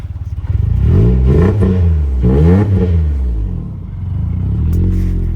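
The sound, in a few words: Mitsubishi Eclipse GT engine running and revving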